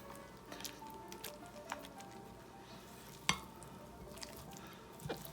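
Potato salad being mixed with vinegar and a sprinkle of sugar in a bowl, soft wet squishing and stirring with a sharp clack of the utensil against the bowl, quiet and close.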